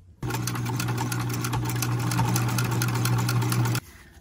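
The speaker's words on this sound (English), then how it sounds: "I am going to sew around the entire pocket with a 1/8 inch top stitch" Sewing machine running steadily at close range for about three and a half seconds, top stitching a 1/8 inch seam around an all-cotton pocket, with an even motor hum and a rapid needle rhythm that starts and stops abruptly.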